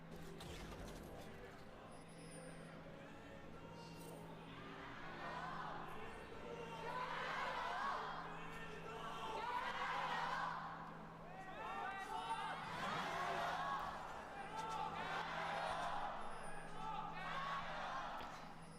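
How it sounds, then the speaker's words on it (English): Esports fans in an arena crowd at a League of Legends LPL 2025 match between WBG and JDG, cheering in rolling swells that rise and fall every few seconds, heard at a distance with room echo. "we have to listen into the fans. I'm sure we're cheering their hearts out."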